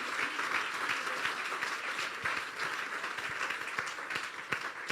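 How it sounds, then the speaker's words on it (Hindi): A church congregation applauds loudly for a pastor, a dense, sustained burst of many hands clapping that fills the room with no voices over it. "तालियां जी जोरदार"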